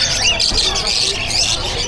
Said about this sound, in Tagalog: Saka pa napakaraming ibon.